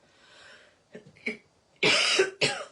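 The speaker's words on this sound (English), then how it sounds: "I'll have a good cough before we start." Someone coughs a few times close to the microphone, two loud harsh coughs following softer throaty sounds.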